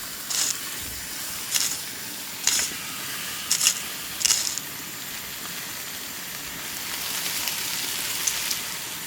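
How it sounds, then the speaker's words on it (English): A steady crackling sizzle of a small fish-filled burrito frying in hot butter, broken by several sharp hissing bursts as pieces are moved in the pot. "Put the burrito in when the butter is hot."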